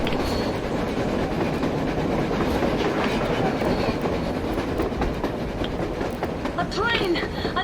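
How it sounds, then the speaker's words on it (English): A train passing on the surface in the Metro Exodus video game, with a steady loud rumble and clickety-clack of wheels throughout and a faint metallic squeal near the end, with no voices. "Train! A damn train on the surface!"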